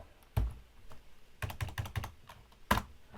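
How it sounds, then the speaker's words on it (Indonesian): A few sharp computer keyboard key presses with an F2 press among them, scattered clicks and one firmer tap near the end, close and isolated in a quiet room. "Kita juga bisa mengeditnya dengan cara tekan F2 pada keyboard."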